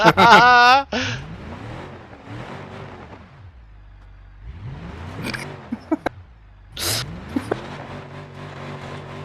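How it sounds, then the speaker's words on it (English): Simulated car engine in BeamNG.drive, starved for oil, sputtering and revving in uneven bursts with rising and falling pitch, close and fairly loud, with a voice talking over parts of it. "Engine is starved for oil."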